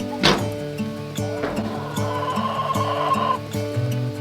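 A hen clucks and makes short, throaty calls while being picked up and carried to a new coop, with a few sharp handling bumps nearby.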